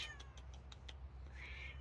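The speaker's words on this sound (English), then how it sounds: "That's the kitty." A cat meows a few times outdoors, with short high faint calls and a longer drawn-out meow at the end over a low steady background hum.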